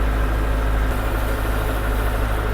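A Scout 404 tractor runs with a 1.4 m rotary tiller while sowing cover crops. Its engine gives a loud, steady, close rumble with unbroken mechanical vibration throughout.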